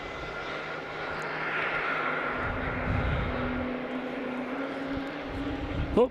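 A jet airliner arriving at Logan Airport at night, a broad rumbling roar that swells and holds steady as it passes at a distance, with faint background noise.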